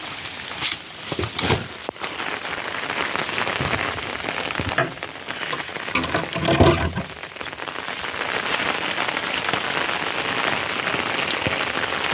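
Heavy unseasonal rain in the Konkan pours down in a steady, dense roar, with a few sharper bursts of louder drumming near the start and middle.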